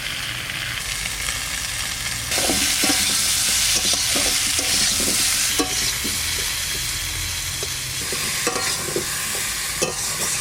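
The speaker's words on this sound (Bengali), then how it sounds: "আলু কটা ভাজা হয়ে গেছে, এবার তুলে নেব।" Potato pieces fry in oil in a pan for a Bengali koi fish curry, a continuous close sizzle with rhythmic scraping and stirring knocks from a utensil through most of the clip, no talking.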